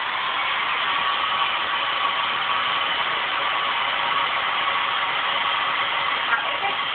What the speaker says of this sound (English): you probably won't be able to hear me when I have the blow dryer on.